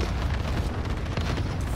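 A grenade blast in the Warzone battle-royale shooter, a dense low rumbling burst that fills the whole short stretch at steady loudness with no talk over it.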